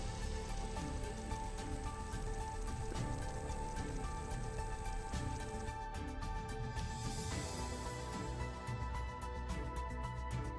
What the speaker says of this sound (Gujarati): દ્વારકામાં વરસાદી માહોલ જોવા મળ્યો છે